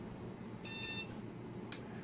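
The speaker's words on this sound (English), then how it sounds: "we have a beep." Short electronic beep from an HT 2000 build after it boots, a faint single tone heard over a steady background hum, with a small click shortly after.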